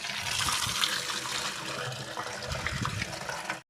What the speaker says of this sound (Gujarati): દોસ્તો પાણી ભરી લીધું છે જોઈ શકો છો બધા ડબલા ડોલ હાંડી ડબલું બધું વસ્તુ ભરી લીધું છે